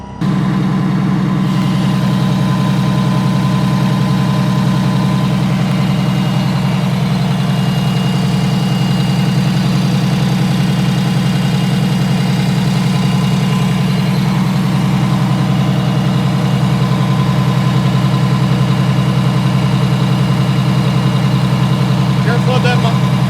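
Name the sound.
engine running with Allison V730 transmission noise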